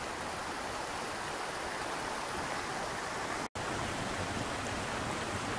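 Steady, close rush of a mountain river stream, the Água Branca in Atlantic Forest near Ubatuba, flowing continuously with broadband hiss and no voices, broken only by a split-second dropout.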